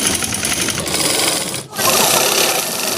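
Sewing machine running steadily while stitching a boat-neck blouse, a close, continuous mechanical whir that breaks off briefly and then resumes.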